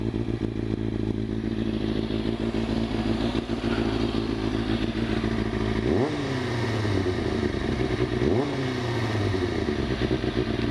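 A 2006 Kawasaki ZZR 600 motorcycle fitted with a Yoshimura exhaust idles loud and throaty up close under an awning, then blips the throttle twice in sharp revs that quickly fall back to idle.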